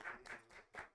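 A few scattered claps from a small studio audience, thin and brief, coming in short bursts rather than a full ovation.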